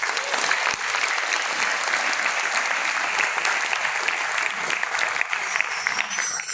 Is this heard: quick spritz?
no